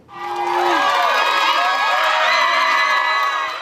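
A courtroom crowd erupts in loud, sustained cheering, whooping and shouting just after a jury verdict in an alienation of affection lawsuit, the roar rising quickly and holding steady throughout.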